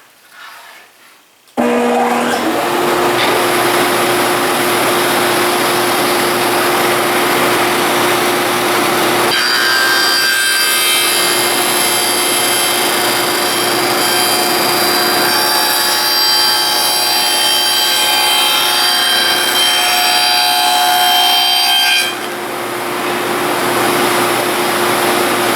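A wood router cuts a board pushed along a JessEm router fence, a loud steady whine with broadband cutting noise running continuously for over twenty seconds after a brief quiet start, with no talking.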